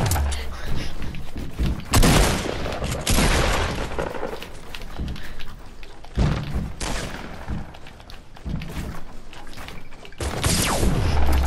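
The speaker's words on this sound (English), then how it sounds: "start shooting it." Video game gunfire rattles in dense bursts while shooting down a target in a duo match, loud and close, with booming impacts, brief gaps between volleys and faint voices in the mix.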